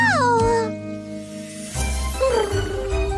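A cartoonish meow with a falling pitch opens, followed by a pause and a second stretched, descending meow, both close and clear.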